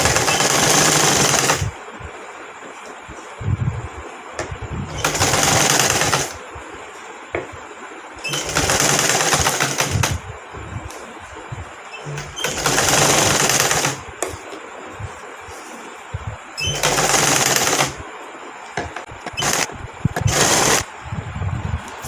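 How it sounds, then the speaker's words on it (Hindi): A sewing machine runs in repeated bursts of a few seconds each, stitching around the neckline of a long frock-style kurti, with short pauses between the runs and no talking. "हमने इस गले को उल्टी तरफ करना है और पूरे गले में सिलाई लगानी है।"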